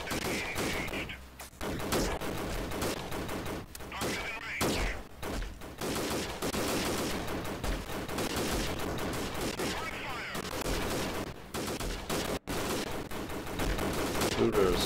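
Dense, sustained gunfire in the guerrilla warfare shooter game Freeman, with rapid machine-gun bursts and overlapping shots running almost nonstop at high volume, while voices speak over the shooting.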